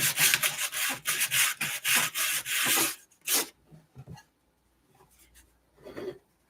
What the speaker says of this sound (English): I'm going to call this good as far as the sanding.